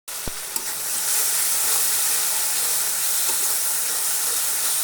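A spice paste for mutton haleem fries in a pan with a loud, dense, continuous sizzle after a brief clatter at the start.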